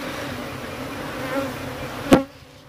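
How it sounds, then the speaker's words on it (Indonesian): Apis cerana bees buzzing in a steady, dense drone during a honey harvest from a large hive box, close and fairly loud throughout, ending with a sharp knock that cuts the buzzing down. "Oke, bosku, nih lebah besarnya."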